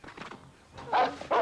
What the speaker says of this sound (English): There's a little doggy coming.